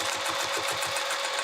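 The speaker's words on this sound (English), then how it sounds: "I'm going to fold that seam allowance down and pressing it this way, straight across, and I'm going to top stitch." A Juki sewing machine topstitching vinyl for a small key chain pouch runs at a fast, even stitching rhythm, close up and alone throughout.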